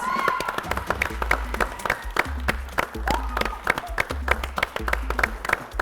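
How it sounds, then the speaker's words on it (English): An audience claps for Chef Lizzie and Chef Grace at a street food cooking competition, a steady patter of hands lasting several seconds with a host's voice over it. "let's give a round of applause to Chef Lizzie and Chef Grace"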